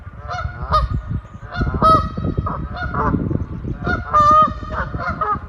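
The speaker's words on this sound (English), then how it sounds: "A goose in a tree." A goose perched in a tree honks repeatedly in loud, nasal bursts, several calls spaced irregularly, close and clear with no voices over it.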